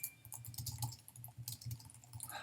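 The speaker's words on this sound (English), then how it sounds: "I can type in special instructions." Quick bursts of keystrokes on a computer keyboard, entering special instructions into a pizza order form, irregular clicking clusters close to the microphone with no talking.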